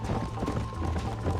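Horse hooves pounding at a fast gallop in the Western video game Red Dead Redemption, a steady rhythmic clip-clop close up over a constant low rumble of game sound.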